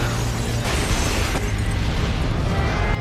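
A bomb goes off in a film scene about a criminal who becomes sheriff, a loud sustained roar of blast and rumble filling the whole stretch with no voices over it.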